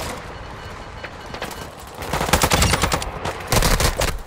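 Video-game gunfire in Call of Duty MW2 DMZ, rapid bursts of automatic shots that grow louder and denser in the second half, with short pauses between volleys.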